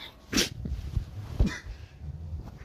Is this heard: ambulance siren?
no